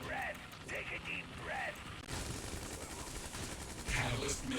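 Rapid bursts of machine gun fire and explosions from the video game C&C Rivals, played fairly quietly with crackling bursts, a louder blast near the end and game sound effects mixed in.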